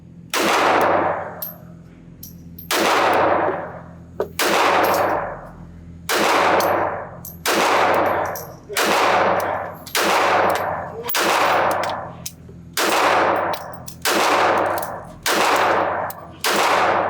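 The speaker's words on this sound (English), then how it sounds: "put one full magazine through this thing" A Ruger LCP Max high-capacity pocket pistol fires at an outdoor range, each loud sharp report trailing a long echo, a full magazine of evenly spaced shots about a second and a half apart.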